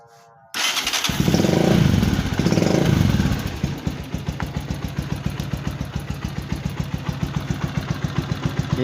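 A motorcycle engine starts abruptly, revs briefly, then settles into a fast, even idle with rhythmic exhaust pulses, close and loud, during a battery and voltage rectifier charging check.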